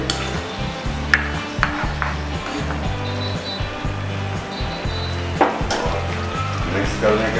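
Rice for Bombay tawa pulao sizzles loudly on a hot tawa as it is mixed, with a steady close frying hiss and the rhythmic scrape and clatter of a spoon against the flat iron griddle.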